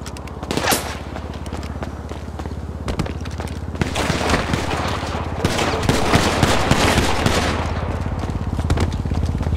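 Sustained gunfire in GTA Online, a mix of rapid automatic bursts and single heavy shots rolling on steadily, loud and close, over a constant low engine-like drone.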